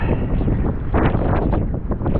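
Strong storm wind gusts buffet a sailboat lying at anchor, a loud, continuous roar with rising and falling surges that fills the clip.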